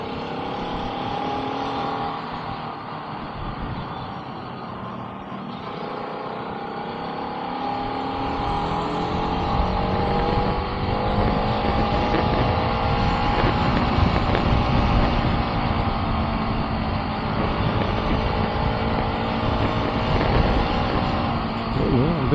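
A motorcycle rides along a bumpy, pothole-filled road in Bulacan, its engine droning steadily and shifting pitch with speed, mixed with rumbling road noise and wind. The sound is close and continuous, growing louder about halfway through.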